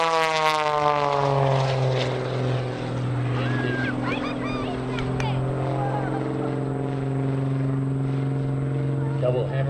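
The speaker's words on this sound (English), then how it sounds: "Buck Roetman and the Pit Special." A Pitts Special aerobatic propeller biplane performs at an airshow, its engine a loud, sustained droning buzz with shifting pitch as it maneuvers, while an announcer talks over it.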